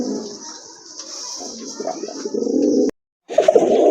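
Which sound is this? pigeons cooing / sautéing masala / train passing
pigeons cooing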